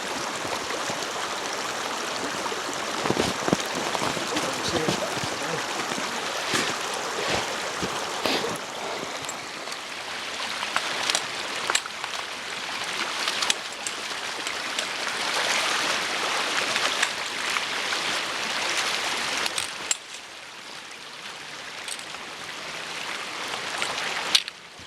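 Boots splash and slosh through an icy stream while water rushes steadily around them, with scattered sharp splashes over a continuous flowing wash and a brief quieter patch near the end.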